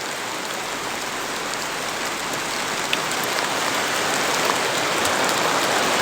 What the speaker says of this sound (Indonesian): Hujan bukan halangan buat kita di sini.